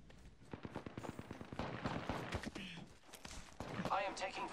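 Rapid gunfire bursts crackle through a video game firefight, dense overlapping shots and impacts close by, with a player talking over the action.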